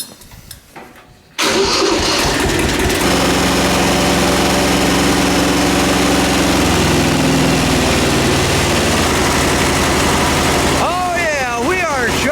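An old Kubota homestead tractor's engine cranks briefly, catches and starts, then runs loud and steady up close, with a shift in its note near the end.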